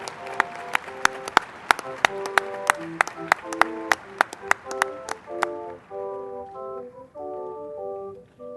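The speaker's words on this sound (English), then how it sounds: "Could we please have a round of applause for all our bachelor candidates from Plant and Soil Science?" At a university commencement for agriculture graduates, scattered sharp hand claps ring out one after another over soft tonal music, then the clapping stops and sustained organ-like notes carry on alone.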